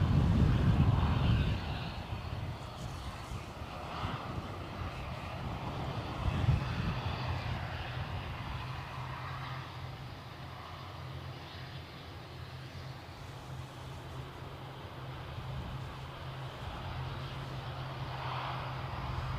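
A Jet2 airliner bound for Geneva takes off at Edinburgh Airport in strong winds of over 40 mph, its distant engine roar rumbling faintly and steadily beneath gusty wind noise.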